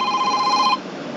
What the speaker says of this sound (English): you can see the ring volume is pretty low. It's the maximum ring volume of this device